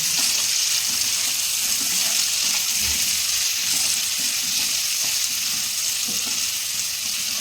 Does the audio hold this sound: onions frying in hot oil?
yes